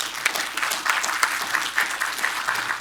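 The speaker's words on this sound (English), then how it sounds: "I think they deserve a round of applause right now." Audience applause at Fanfest 2014, a gaming convention for DUST 514, with dense steady clapping from a large crowd that stays loud and even throughout.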